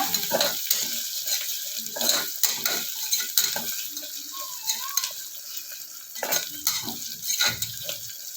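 Whole green chillies, uncut, frying in a pan for a kushka rice dish, giving a steady close sizzle broken by irregular scrapes and clinks of a spoon stirring against the metal.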